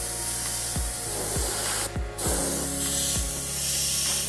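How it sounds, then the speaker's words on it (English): A Badger Sotar 2020 airbrush sprays air and cleaner in a continuous close hiss, marked by a series of soft rhythmic low thumps. "The air is definitely coming out."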